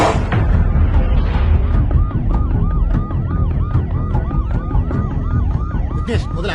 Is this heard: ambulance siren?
yes